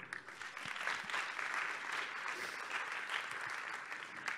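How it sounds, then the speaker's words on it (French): Audience applause for the technical crew at a French startup business day event, a sustained even patter of many hands clapping at moderate volume, with no talking. "On peut les applaudir s'il vous plaît."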